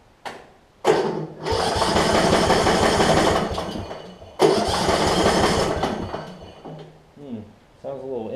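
A Yard Machines riding mower engine cranks loudly in two long bursts, a brief stop between them, then fails to catch and falls quiet as a person talks.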